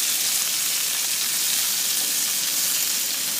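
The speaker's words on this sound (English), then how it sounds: "We just wanna brown it and give it some a little bit of crispy texture." Meat browns in a paella pan with a steady, dense, close sizzle that crackles without pause and without any talking.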